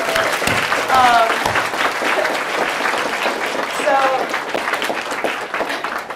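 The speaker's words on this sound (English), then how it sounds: "give a big round of applause for everyone in this room" A roomful of people at an illustration career talk breaks into applause, a loud sustained clapping crowd with scattered cheers and voices mixed in, steady from start to finish.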